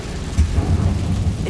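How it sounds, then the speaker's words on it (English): An Incendio fire spell cast in Hogwarts Legacy, a brief, dense low roar with a rumbling, crackling texture, loud and steady throughout. "Incendio"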